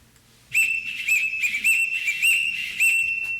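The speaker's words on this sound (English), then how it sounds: "Everyone in this house answers to a whistle." A shrill whistle sounds in a stage production of The Sound of Music, summoning the household with a string of loud, piercing blasts in a patterned rhythm after a brief quiet start.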